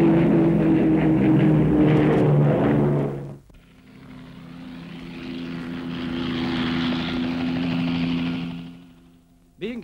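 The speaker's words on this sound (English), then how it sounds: "flying boat, once a familiar sight in Evans Bay, comes in on a very low-level run" A Short Sunderland flying boat roars past on a very low-level pass over Evans Bay, its propeller engines droning loud and close, easing briefly, then swelling again and fading.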